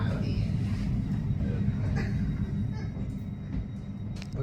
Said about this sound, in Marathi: ही बघा डबल डेकर ट्रेन आहे.